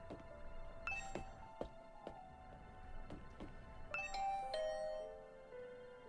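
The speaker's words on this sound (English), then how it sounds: "I rang the doorbell and could hear the bell ringing on the other side of the door." A doorbell in The Hundred Line video game chimes in two ding-dong sequences, bright ringing tones repeating several times and fading out, heard quietly alone against a hushed background.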